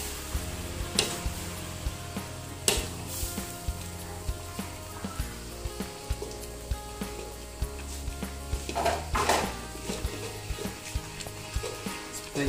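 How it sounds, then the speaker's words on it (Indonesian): Egg yolk is stirred into carbonara sauce in a hot, sizzling pan. Utensil scrapes and clinks against the pan come at irregular intervals over a low, steady frying hiss, with no talking. "Lalu kita aduk biar mengental ya."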